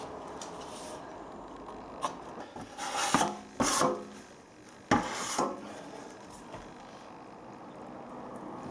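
A trowel working plaster during a lath and plaster wall repair, with intermittent scraping and rubbing strokes, a few louder passes close by in a quiet room.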